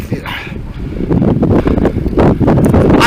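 Loud wind batters the microphone on a windy outdoor ride, a heavy low roaring buffet that strengthens after the first second and keeps gusting steadily.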